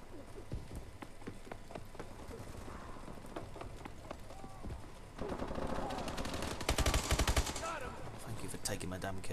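Call of Duty: Advanced Warfare gunfire, with scattered sharp shots and bursts in a multiplayer match, thickening into denser automatic fire in the second half, mixed with game ambience and a voice talking.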